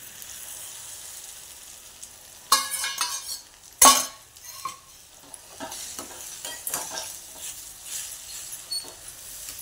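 Beaten egg is stirred into a sautéed mixture with fresh coriander in a frying pan: a soft, low sizzle under scattered scraping and clinking strokes, with two sharper clatters early on.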